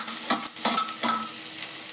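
Onion and garlic frying in hot oil for cauliflower 65, a steady sizzle with a few stirring scrapes near the pan, no voices.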